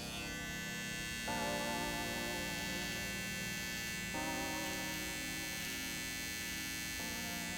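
Electric hair clippers buzz steadily through the temporal hairline during a fade haircut, a close, continuous motor hum whose tone shifts a few times as the blades press into the hair, with no talking.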